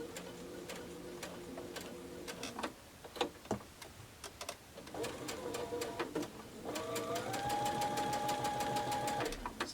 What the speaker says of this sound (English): So I'm stitching right on my line